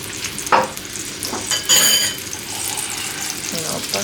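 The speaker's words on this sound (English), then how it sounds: "The book says when the butter is hot, we just add the herbs" Mint and parsley hit hot butter in a pan and sizzle, with stirring scrapes and short bursts of frying close by.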